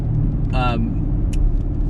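A 6th-generation Chevrolet Camaro with the LT1 V8 idles in a steady, deep, close rumble, and a short voice cuts in briefly over the engine.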